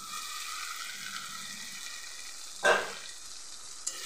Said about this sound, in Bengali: সয়াবিনগুলো আমি এবার মশলার সাথে মিশিয়ে দেব।